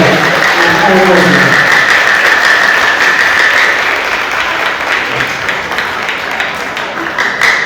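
Sustained crowd applause at a showcase continues steadily, loud and dense, with a brief word spoken at the start and scattered voices mixed in.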